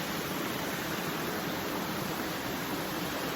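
Steady broadband rush of a small stream flowing outdoors in nature, continuous and fairly close with no voices over it.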